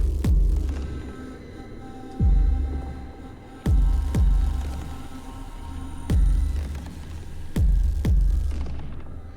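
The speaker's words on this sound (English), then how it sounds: "Bet you didn't think your bowed metal was going to sound like this" A deep, throbbing metallic drone hums steadily while heavy booming strikes land every second or so, each ringing out and fading.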